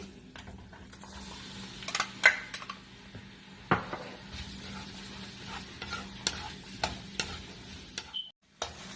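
Onions sautéing in a pan after garlic for arroz caldo: a low, steady sizzle with frequent scraping and tapping from a stirring utensil. The sound is close and uneven, drops out briefly near the end, and has no speech.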